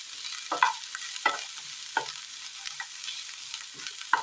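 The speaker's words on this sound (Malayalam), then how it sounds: "ചെറിയുള്ളി ഒന്ന് നന്നായി വാട്ടിയെടുക്കാം." Small onions fry and are stirred in a pan, with repeated scraping stirs every half second or so over a continuous light sizzle.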